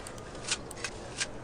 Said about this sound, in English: what you're hearing is the sound of a metal tape measure